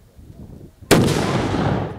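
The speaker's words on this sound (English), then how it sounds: "Shooting real cannons," A real cannon fires once at an 1840s-style historical rendezvous on the Waubonsie Trail, a single loud, sharp boom that rolls away slowly after a quiet moment.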